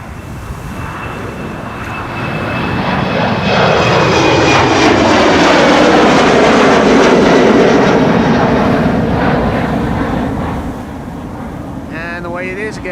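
A jet airliner takes off at Amsterdam Schiphol Airport, its engine roar swelling loud and broad, holding a sustained peak with a shifting whine, then fading as it climbs away.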